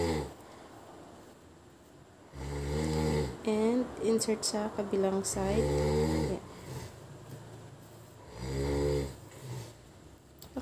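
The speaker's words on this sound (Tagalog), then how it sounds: "Lakas ng hilik ng asawa ko mga sis." A man snores loudly in rough, rasping bursts, two long snores and a shorter one, while someone speaks softly in between and over them.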